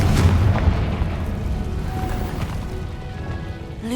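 A Confringo spell explosion in Hogwarts Legacy, a heavy low boom and rumble at the start that keeps roaring steadily, fading slightly toward the end with a faint tonal chime.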